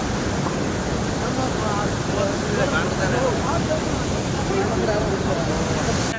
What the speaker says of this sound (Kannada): ನೋಡಿ ಹೆಂಗಿದೆ ನೀರು ತುಂಬಾ ಫೋರ್ಸ್ ಆಗಿದೆ